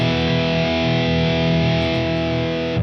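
Electric guitar played through a distorted amp tone shaped by a subtle EQ, sustained chords ringing loud and steady with a dense, saturated texture and no talking.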